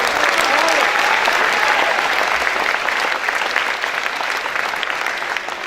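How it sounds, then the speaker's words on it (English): Loud, sustained applause fills a high school gym at a 2018 Georgetown High School military signing day, a thick crowd roar of clapping that holds steady and eases slightly toward the end. "big applause for him as well."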